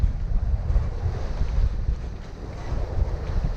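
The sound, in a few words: wind on a sailboat at sea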